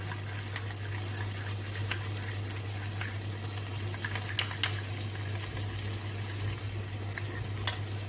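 Whisked sour yogurt and cashew paste going into fried spice masala in a pan, giving a steady low sizzle and stirring with occasional scrapes and clinks, close and moderately quiet with no talk.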